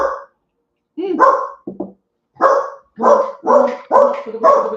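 A dog barks at someone arriving home: loud, close barks in quick bursts, about six or seven sharp woofs with short gaps between them and no other sound behind.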